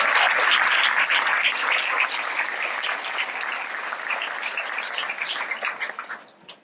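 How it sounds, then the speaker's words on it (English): Audience applause at a reunion gathering, a dense wash of clapping from many hands that holds steady and then thins and fades out toward the end. "So a round of applause to them."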